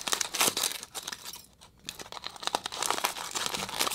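Aluminium foil is crinkled and peeled open from a baked pesto salmon and vegetable foil bake, close and fairly quiet, with continuous crackling and crumpling, a brief lull in the middle, then more rustling.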